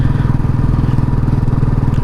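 A Royal Enfield motorcycle rides the Zojila Pass mountain road between Sonamarg and Leh in cold weather, its engine a loud, close, steady thumping drone with rapid even pulses and no talk.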